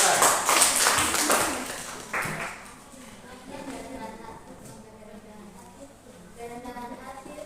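Audience applause at a campus group presentation, a burst of clapping near and loud at the start that fades out within a few seconds as a voice continues talking.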